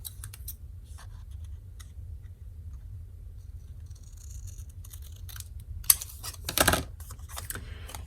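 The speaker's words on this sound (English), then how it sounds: "And just cut that off real quick." Scissors snipping paper while making a matchbook for a junk journal, a few quiet crisp cuts near the end after a stretch of faint rustling and handling.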